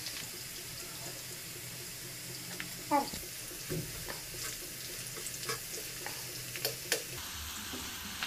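Onion pakoda made with gram flour and rice flour frying in oil, with a soft, steady sizzle and scattered sharper crackles and clinks. The sound stays fairly faint and close, with no voices.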